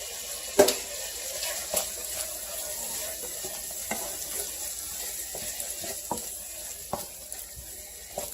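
Seafood, bacon, onions and garlic fry in butter in a pan with a steady, close sizzle, broken by sharp clicks and scrapes of stirring throughout.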